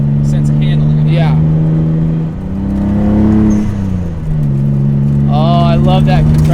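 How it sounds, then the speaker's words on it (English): A VG30DETT twin-turbo engine swapped into a Mazda RX-7 pulls under load, with a deep engine drone rising and falling and turbo compressor surge fluttering through it, as heard from inside the car while a person talks over it. "Oh, I love that compressor surge"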